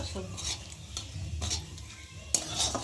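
Whole spices, bay leaf, cumin, cardamom, cloves and cinnamon, fry in a pan while a utensil scrapes and stirs them in repeated bursts over a soft sizzle, with clanks near the end.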